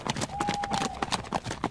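Horse hooves clip-clop steadily on hard ground in an audiobook sound effect, a brisk, close, even rhythm of hoofbeats with no talk over it.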